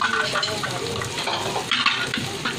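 Chopped garlic and ginger with onion and chillies frying in a pan while being stirred, giving a continuous sizzle with scraping and clinking of the utensil against the pan, close and moderately loud.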